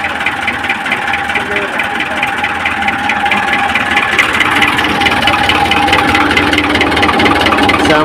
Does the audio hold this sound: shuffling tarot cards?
no